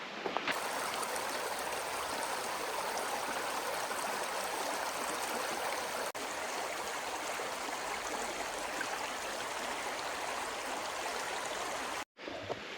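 A brook flowing downhill through woodland in The Vern, its steady, close rush of water running broad and unbroken for the whole stretch before a sudden brief cut near the end.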